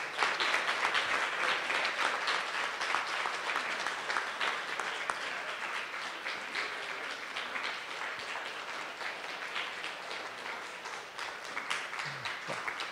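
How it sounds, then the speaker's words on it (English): A crowd applauds continuously, a dense wash of clapping from many hands that holds steady throughout. "Please give them a big round of applause."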